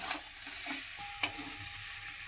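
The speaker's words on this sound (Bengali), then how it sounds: "লবণ হলুদ ওলের সঙ্গে আর মশলা দিয়ে ভালো করে কষিয়ে নেব" Elephant foot yam is frying with salt, turmeric and spices for a vegetarian Bengali dish. A low, quiet sizzle runs under repeated spatula stirs and one sharp scrape-click, with no voices.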